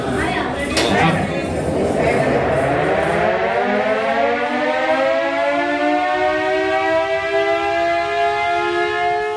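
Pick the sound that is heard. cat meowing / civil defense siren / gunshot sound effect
civil defense siren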